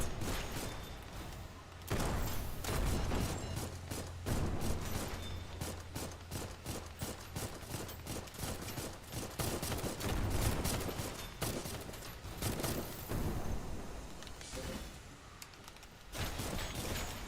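Gunfire from snipers during a tense video game fight, with sharp shots and thumps coming in bursts over a dense, continuous layer of game noise and effects.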